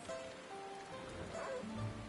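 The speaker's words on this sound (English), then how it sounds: "It's raining right now, which isn't the best" Steady rain hisses across a video game raid zone, a soft continuous wash with faint tonal game music threaded through it, no voices.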